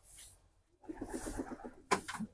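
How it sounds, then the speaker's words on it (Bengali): Shiraji pigeons coo softly at close range in a short, rhythmic, pulsing run, followed by a brief flutter or tap. "সিরাজি কবুতর এখানে আছে"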